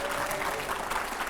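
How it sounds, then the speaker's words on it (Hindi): A brief burst of loud, dense audience clapping fills a studio during a panel discussion of editors with Swami Ramdev. "पहले जोरदार ताली हो"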